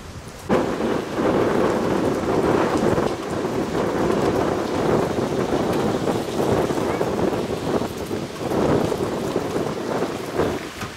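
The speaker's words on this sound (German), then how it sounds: "Haben wir schon wieder nur mit Sturm zu kämpfen." Stormy wind and rain lash a camp in Norway, with a roof tent being tested: a steady, loud broadband roar of gusting wind and drumming rain that swells and eases throughout.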